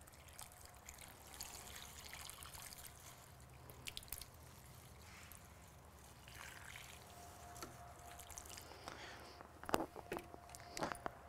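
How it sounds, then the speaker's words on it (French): Water poured generously over a newly planted pot of herbs such as thyme, parsley, basil, mint and rosemary, a faint steady trickle with a few soft drips and handling clicks. "il faut arroser copieusement pour le premier arrosage"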